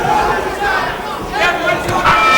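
Boxing arena crowd roaring and cheering at the end of the sixth round, a dense sustained wash of voices under commentary.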